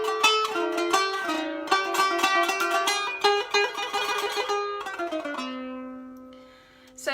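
A closing phrase of an Arabic taqsim played on a plucked stringed instrument, with quick melodic runs settling onto a sustained low resolving note; clear and solo, no voices.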